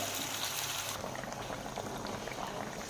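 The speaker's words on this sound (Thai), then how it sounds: "ก็ตั้งได้ประมาณสักสามนาทีก็เริ่มเดือดแบบนี้แล้ว" Chu chee tilapia curry with water added comes to a boil in a pan, a soft steady bubbling and simmering heard close but faint, with no talking.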